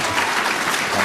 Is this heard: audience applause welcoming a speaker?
yes